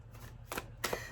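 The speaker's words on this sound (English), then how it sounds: "I'm shuffling this deck that I just used" A tarot deck is shuffled close by in a quiet room, two short papery riffles of cards sounding softly a fraction of a second apart.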